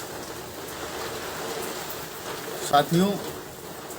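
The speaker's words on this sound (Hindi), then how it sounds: "और काफ़ी बारिश भी हो रही है, आप लोग देख रहे हैं।" Heavy rain falls in a steady, dense hiss that carries on throughout outdoors in the dark, with someone briefly speaking Hindi over it.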